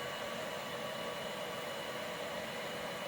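A steady, loud rush of blown air from a heat gun applying a vinyl skin to a Nintendo Switch OLED, constant and unbroken throughout, close to the listener.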